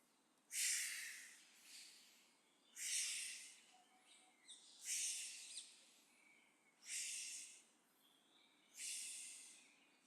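Slow, audible breaths during seated qigong, five breathy exhale-inhale cycles spaced about two seconds apart, close and soft with near silence between them.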